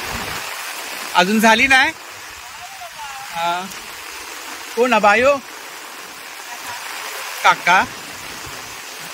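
Heavy monsoon rain in a Konkan village falls as a steady, even wash of hiss throughout, while several people talk briefly in short bursts over it.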